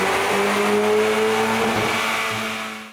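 A stock Hyundai Veloster N with no modifications, running the JB4 map 0 on a dyno, holds a loud, steady engine roar that climbs in pitch as the revs build, then cuts off sharply at the end of the pull.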